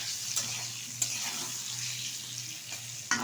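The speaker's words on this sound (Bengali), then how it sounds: "পটলটা একটু ভালোভাবে ভেজে নেব।" Pointed gourd (potol) sizzles steadily while frying in a pan, with a few sharp scrapes and taps as it is stirred, close and moderately quiet.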